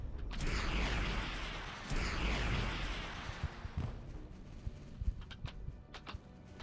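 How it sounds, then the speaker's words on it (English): Weapons fire steadily at an enemy base in the space game Starcom: Unknown Space, a dense, rumbling barrage that gives way to scattered sharp blasts and thuds. "By firing constantly at it."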